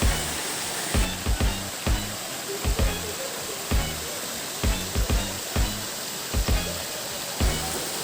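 Running water feeding natural spring-fed pools in Tanay, Rizal, giving a steady broad hiss, with regular dull knocks and thumps recurring over it throughout.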